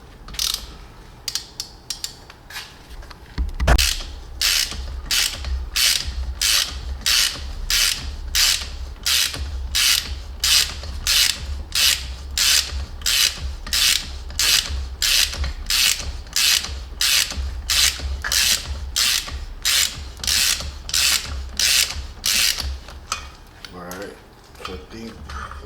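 A thread repair tool ratchets steadily into a spark plug hole in a 1997 Ford F-150 4.6L cylinder head, giving a regular series of close, crisp metallic clicks, one for each turn, repeated for more than twenty seconds.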